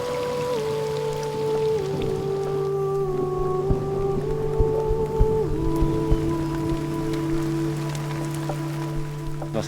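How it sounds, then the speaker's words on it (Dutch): Heavy rain pours down during a violent nighttime storm at a remote island camp, a steady dense wash with scattered louder drops, while low tonal hums run beneath throughout. "Midden in de nacht barst een hevige storm los."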